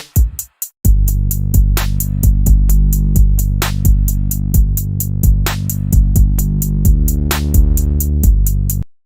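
Driving electronic dance music with a steady pounding kick and heavy bass, briefly cutting out before the full beat drops in and continues loud.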